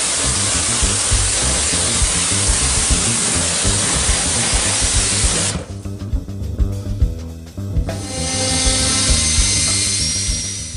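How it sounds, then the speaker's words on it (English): A jet washer sprays clay residue off an elephant costume mould, giving a loud, steady hissing blast that pauses briefly with spattering sounds and then resumes. "we proceed to use a jet wash to remove the rest of the clay residue"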